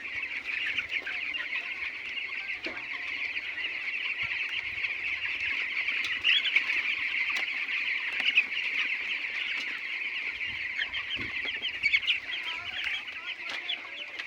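Chickens on a raised platform above a pond cluck and call in a steady, busy chorus, moderately close, with breezy outdoor air behind them and no talking.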